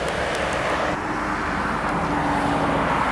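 An intercity Javanese bus on a Sumatra route passes on a road in Tebo, its steady engine and tyre rumble continuous and fairly loud amid general traffic noise, with no voices.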